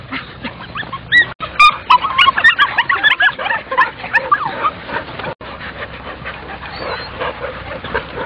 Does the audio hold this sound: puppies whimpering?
yes